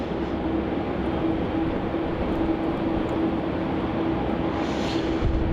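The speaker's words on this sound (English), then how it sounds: "So we've got our pushback for that ATC 747, the star of the show for today's Thursday live stream here in Melbourne." A Boeing 747 cargo jet being pushed back at Melbourne Airport gives off a steady, loud engine and APU drone with a sustained low hum, constant throughout with no talk.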